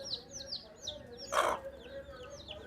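Small chirps and cheeps from newly hatched chicks beside a hen, one of nine that hatched from thirteen eggs, repeated in a quick high series with a brief louder rustle or cluck midway.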